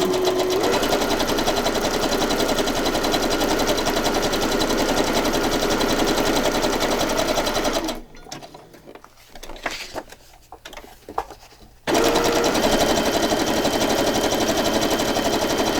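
A sewing machine runs steadily for several seconds of rapid, even stitching, stops for a few seconds of quiet handling noises, then starts again at the same fast buzzing pace.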